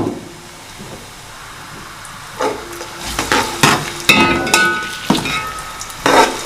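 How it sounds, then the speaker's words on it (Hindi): Three medium onions frying in a cup of hot oil for beef paya, sizzling and crackling in bursts with stirring scrapes, growing louder partway through, close with no talking. "प्याज हम फ्राई करेंगे।"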